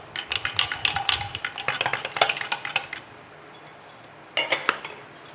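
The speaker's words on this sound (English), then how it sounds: "we give it a bit of a stir" A spoon stirring hot water in a glass French press, rapid clinking and scraping against the glass in quick bursts, a pause, then a final short flurry of clinks, close and without talk.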